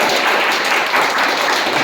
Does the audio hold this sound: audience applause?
yes